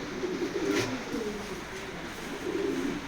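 A pair of racing pigeons (sobuj birds) at a racing loft coo in low, rolling phrases that repeat several times, close and moderately loud, with no talk.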